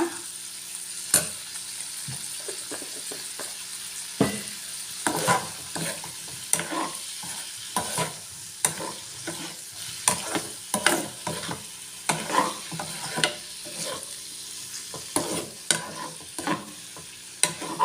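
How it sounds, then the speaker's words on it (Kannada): Masala frying in butter or ghee in a pan, with a steady sizzle broken by repeated scraping stirs of a spoon across the pan, close and fairly loud, no voices. "ಬೆಣ್ಣೆ ಅಥವಾ ತುಪ್ಪದಲ್ಲಿ ಫ್ರೈ ಮಾಡ್ಕೊಳ್ಳಿ ತುಂಬ ಟೇಸ್ಟ್ ಇರುತ್ತೆ"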